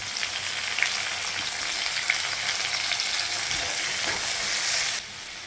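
Tomatoes tossed into small shallots browning in a pan for mango and drumstick sambar give a loud, steady sizzle and frying hiss, with a few stirring clatters, before the sound drops abruptly near the end.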